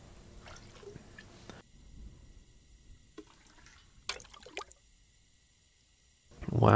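Sparse, quiet drips and small watery squishes in The Long Dark survival game, a few isolated plinks separated by near-silent gaps before a louder burst at the end.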